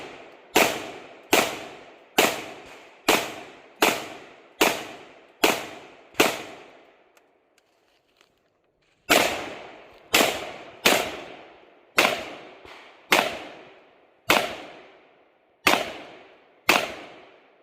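An IWI Tavor bullpup rifle fires a steady string of sharp, loud shots outdoors, roughly one per second, breaking off for a short pause before another volley of evenly spaced shots resumes.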